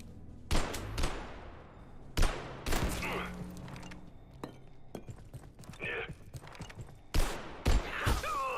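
Gunfire in the survival game Abiotic Factor: several sharp, loud shots spaced irregularly across the span, mixed with thuds and impacts, with a voice talking between them.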